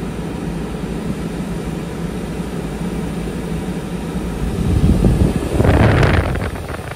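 An air conditioner installed in a Kombi van blows cold air in a steady, close whooshing rush that grows louder with gusty buffeting near the microphone toward the end.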